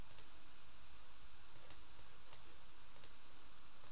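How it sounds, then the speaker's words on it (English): Mouse clicks on provinces in an Age of History 2 mod editor, a handful of faint, sharp, separate ticks spaced irregularly over a soft background hiss. "let's keep clicking these provinces"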